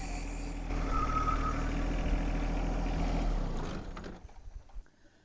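A tractor engine runs steadily while its front bucket pushes down to lift the machine. The engine drones evenly, then drops away and fades into faint scattered clicks and knocks near the end.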